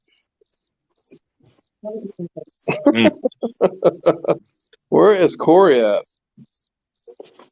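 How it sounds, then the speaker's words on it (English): Crickets chirp in a steady, evenly spaced pattern throughout, a bright pulsing trill under men chatting loudly nearby. "You got them crickets going."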